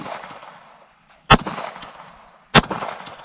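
Two loud, sharp pistol shots from a Palmetto State Armory Dagger Compact firing reloaded ammunition at a bowling pin on an outdoor range, spaced about a second apart, each followed by a short echoing tail.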